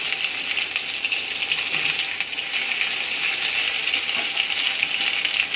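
Vegetables such as pointed gourd and papaya frying in oil over a dried red chilli and cumin tempering give a continuous bright hiss, steady and close, with no voices.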